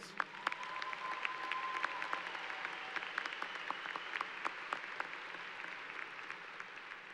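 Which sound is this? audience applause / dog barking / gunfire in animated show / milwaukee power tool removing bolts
audience applause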